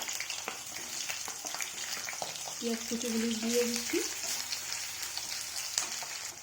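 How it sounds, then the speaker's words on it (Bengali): Chopped fried onions hit hot oil in a wok and sizzle with a steady, close hiss throughout, while a brief voice-like tone rises underneath midway. "তেল গরম হয়ে গেছে, এখন দিয়ে দিচ্ছি ভাজা পেঁয়াজ কুচিগুলি"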